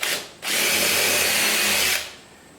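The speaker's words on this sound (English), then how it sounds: "drill a hole in, and now this bigger bit will follow that hole through with no effort at all" A power drill bores a hole with a bit, one loud sustained burst of whirring and grinding lasting about a second and a half, with a short spin-up just before it, alone and close.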